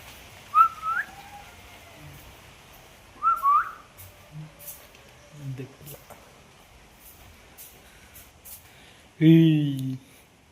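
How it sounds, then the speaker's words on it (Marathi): A parrot whistles a few short rising notes at intervals, with quiet murmurs between and a brief louder voice near the end. "आमचं एक पोपट आहे."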